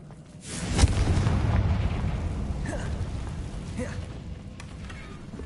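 In the Hogwarts Legacy video game, a Confringo spell lands with a sharp, booming explosion, followed by a rumbling, crackling wash of debris that fades slowly.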